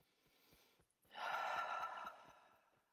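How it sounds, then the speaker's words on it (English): One long, deep breath taken during a calming emotional tapping exercise, a soft airy inhale building into a strong, steady rush of air that slowly fades, close to the listener with no talking. "Take a deep breath."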